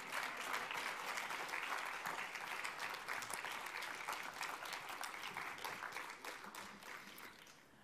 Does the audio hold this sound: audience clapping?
yes